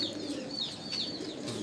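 Soft repeated cooing of a breeding pair of Teddy pigeons, a few low murmuring calls close by, with faint chirps and rustling in the background.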